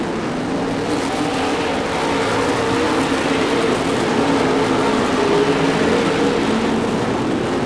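Race cars circle a dirt track in a continuous, loud engine roar that holds steady from start to finish, with overlapping drone from several cars and no distinct pass-by peaks.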